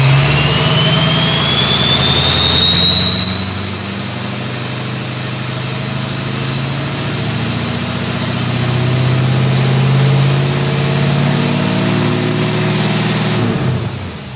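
A 6.0 race truck engine at its first start-up, held at a steady rev of about 1,500 rpm, loud and close. Its drone climbs slowly and evenly, then drops off at the very end.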